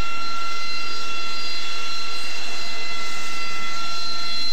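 A jet engine spools up in the DCS World flight simulator. It gives a loud, steady whine with high tonal lines over a broad roar and runs evenly with no voices.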